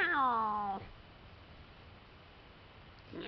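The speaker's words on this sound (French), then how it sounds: "Et le chat, je peux le faire dégager?" A cat in a video game gives a single drawn-out meow that falls in pitch and cuts off, followed by near silence and the start of another sound at the end.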